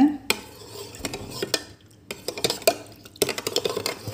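A spoon stirs tender coconut sherbet in a glass, with bright clinks and taps against the sides in uneven bursts separated by short pauses, close and fairly loud.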